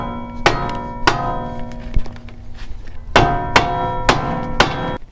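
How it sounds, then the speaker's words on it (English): Sharp metallic hammer blows ring out close by on a rear camber bolt of a 10th-generation Honda Civic Si, a pair, a pause, then a quicker run of four strikes, each leaving a brief ringing tail. "I'm gonna go grab a hammer."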